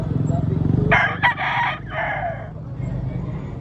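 A rooster crows once, loud and near, a drawn-out call over a low steady background hum, at a rooster expo in Carbon Public Market, Cebu City.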